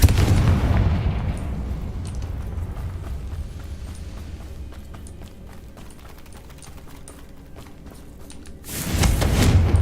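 Blasting spell explosion in the Hogwarts Legacy video game, a loud booming burst at the start that decays into a long rumbling tail with scattered debris crackles, then a second heavy blast near the end.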